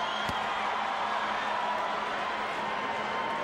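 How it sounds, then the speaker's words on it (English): Boxing arena crowd at Evander Holyfield vs Chris Byrd, a broad steady roar of cheering and whoops from a large audience, distant and sustained, with one sharp knock near the start. "Crowd rising in energy as Randy Newman prepares to summon the fighters to the center of the ring"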